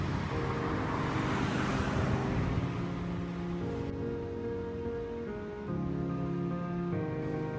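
A car passes near the wearer, caught by microphones in a headset, as a steady broadband roadway wash that swells while it approaches and then eases off, with a tonal hum running underneath.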